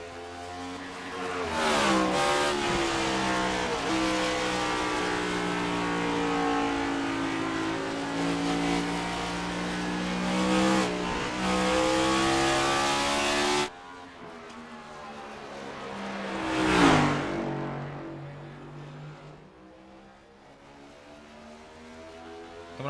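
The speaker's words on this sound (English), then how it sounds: "Getting ready for his qualifying run as he begins his qualifying lap here at Richmond" A race car on a qualifying lap at Richmond Raceway roars loud and steady for a long stretch, then the engine note drops, swells briefly as it passes close, and fades into quieter running.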